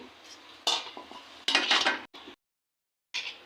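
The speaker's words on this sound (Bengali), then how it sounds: "এখন হালকা একটু নাড়া দিয়ে দিয়ে ঢাইকে দেব" A utensil scrapes and clinks against a pan as radish greens with prawns, onion, salt and a little water are stirred, in several short close bursts, followed by a brief silence and a last clatter as the lid goes on.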